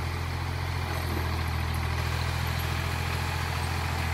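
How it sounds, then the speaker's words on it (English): A steady, loud Ford tractor engine drones without a break while moving snow, with a deep low rumble and an even mechanical hum that fills the whole stretch. "the audio on this video might be a little bit messed up because of the tractor"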